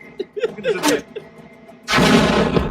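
A few short pops and crackles, the pop made with a plastic tube, lead into a sudden loud burst of noise that sustains, like a blast, heard close and forceful.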